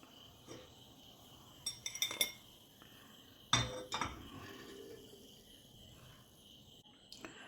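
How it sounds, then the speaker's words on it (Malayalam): Fried cheese pakkavada is scooped out of hot oil. A few faint metallic clinks and one sharper knock of a ladle against the pan sound over a quiet kitchen background. "ഇതിവിടെ റെഡി ആയിട്ടുണ്ട്. നമുക്കിത് കോരി മാറ്റാം."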